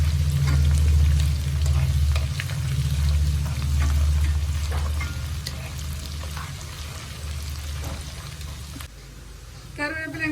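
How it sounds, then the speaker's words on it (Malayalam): Two bulbs of finely chopped garlic fry in hot oil for a tomato pickle, giving a steady bubbling sizzle over a low burner hum, then a few light metallic clinks at the end. "രണ്ട് കുടം വെളുത്തുള്ളി ചെറുതായിട്ട് അരിഞ്ഞു വെച്ചത് കൂടെ ചേർത്ത് മൂപ്പിക്കാം."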